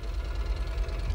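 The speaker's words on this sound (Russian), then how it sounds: "Мотор можешь заглушить?" Tractor engine idling steadily, a low even rumble with a faint knocking pulse, fairly quiet and continuous with no voices.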